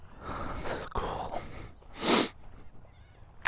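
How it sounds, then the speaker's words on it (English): A person with a cold sniffles outdoors, giving one sharp, close nasal sniff mid-clip between softer breathy snuffles, faint overall with no talking. "Sorry, I've got some sniffles."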